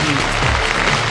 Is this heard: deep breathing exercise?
no